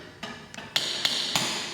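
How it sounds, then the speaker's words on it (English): Several sharp hammer taps on a crowbar wedged behind a baseboard, with a putty knife protecting the wall during flood damage repair. About five distinct metallic knocks come at uneven intervals, close and clear over steady background hiss. "and you'll take your hammer"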